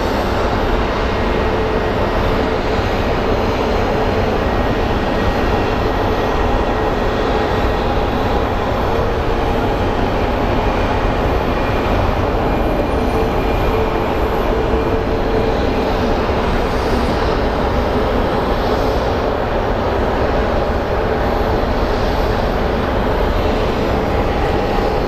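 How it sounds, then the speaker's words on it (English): A Delta airliner departing Phoenix Sky Harbor International Airport for Atlanta, its jet engines producing a loud, steady, unbroken roar throughout, with no voices. "Delta is departing for Atlanta."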